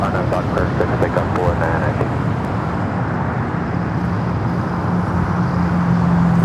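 A 14-year-old Boeing 777 freighter takes off from runway 25 right at LAX, a loud, continuous engine roar and rumble that builds slightly, with radio voices talking over it.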